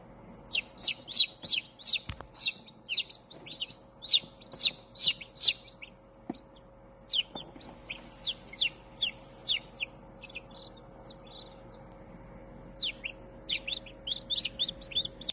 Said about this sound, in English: this is an update of the baby chickens